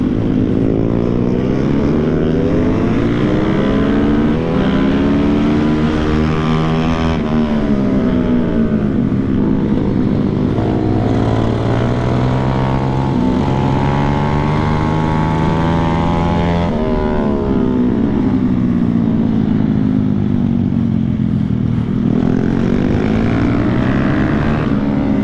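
Two-stroke KTM motorcycles racing head to head, a loud continuous engine drone that rises and falls in pitch as the throttle opens and closes, close and sustained throughout.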